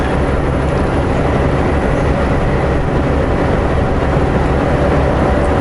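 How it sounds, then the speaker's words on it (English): A long freight train of double-stack containers rolls alongside a moving vehicle, giving a steady, dense rumble and roar that stays even and continuous throughout with no voices. "We're catching up to a train on the left-hand side there. Looks like they've got double stack containers."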